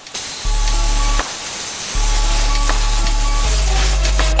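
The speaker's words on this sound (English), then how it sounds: "I'm going to be cleaning this with a spray instead of just a rag" Cleaning spray hisses from a bottle in three bursts, loud and close, with short pauses between them while a motorcycle's dirty part is cleaned.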